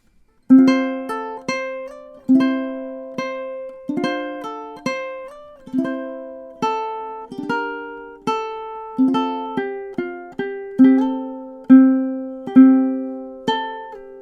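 A ukulele picks the B section melody of the Celtic tune The Parting Glass, with clear single plucked notes and soft chords in a slow steady rhythm, close and alone.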